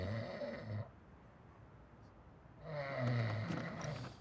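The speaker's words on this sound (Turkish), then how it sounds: "Bir soru soruyorsun, cevabını almadan horlamaya başlıyorsun." A man snoring in a Turkish comedy scene, two rough, breathy snores separated by a quiet pause, fairly soft and close with no speech over them.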